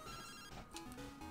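An electronic phone ringtone from Pokemon Crystal Clear chirps in short bright chiptune tones, a quick repeating ring with steady game music underneath.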